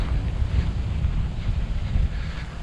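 Wind blows over open water on a cold fall bass-fishing outing, a steady low rumbling gust buffeting the microphone with faint wash beneath, continuous and close, with no talk.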